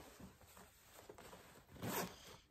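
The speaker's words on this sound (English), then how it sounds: "Our zipper works." The zipper on a pair of black denim jeans is run up and down, giving a few quiet rasping pulls that end in one louder zip, with no speech.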